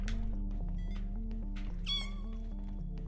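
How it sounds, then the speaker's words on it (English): A single cat meow rings out in the Crayta video game over a steady, low-level game soundtrack with a droning hum. "That sounds more like a cat."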